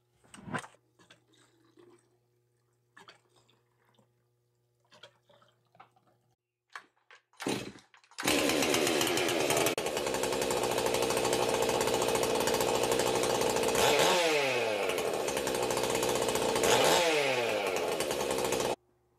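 A Stihl MS400 chainsaw, freshly assembled, starts after a few quiet clicks and handling noises, then runs loud and steady close by for about ten seconds, with two throttle dips and rises near the end.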